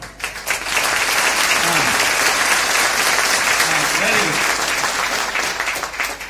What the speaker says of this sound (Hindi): आप जब भी मौका मिले ताली बजाओ और मजबूती से बजाओ